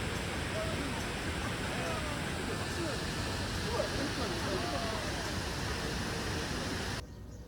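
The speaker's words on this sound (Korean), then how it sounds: "이곳은 천지연 폭포인데요." Cheonjiyeon waterfall on Jeju pours in a steady, dense roar that stays even throughout, close and loud, then drops off abruptly near the end.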